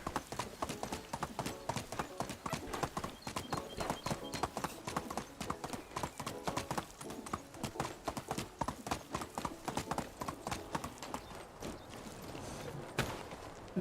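Horse hooves in Medieval Dynasty clip-clopping in a brisk, steady rhythm, loud and close, continuing for several seconds with a brief whinny-like sound and faint talk.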